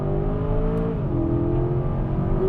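The engine of an Aston Martin DBX SUV drones loudly and steadily as it accelerates on a circuit. A low, sustained tone holds throughout and rises slightly in pitch as the car shifts, heard up close with no talking.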